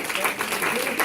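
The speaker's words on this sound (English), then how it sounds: "So let's have a round of applause for Bill." Short burst of audience applause at a bon voyage reception for Bill, steady and fairly loud, with voices mixed in through the clapping.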